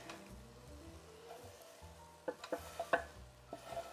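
Broccoli, garlic and kale are stirred in a pan, giving a soft, steady sizzle with several sharp scraping clicks of the utensil toward the end, close and fairly quiet, with no talk.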